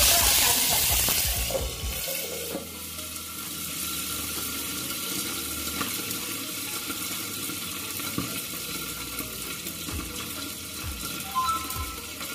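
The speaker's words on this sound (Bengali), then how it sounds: "তারপরে দিয়ে দিচ্ছি দেখো কিছু কাঁচা লঙ্কা আর কারি পাতা।" Green chillies and curry leaves hit hot oil in a pan with a loud initial sizzle that settles into a steady, quieter frying hiss with occasional stirring clinks.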